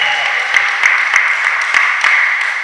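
Loud, dense applause from a crowd at a badminton tournament greeting a team, sustained clapping with a few sharper individual claps standing out.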